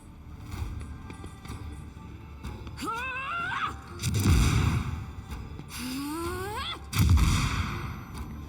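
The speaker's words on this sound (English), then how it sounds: "See, sniper rifle." Sniper rifle shots in the Warhammer 40k: Rogue Trader game, two heavy booming reports several seconds apart amid combat effects, with rising whistling tones sounding just before each shot.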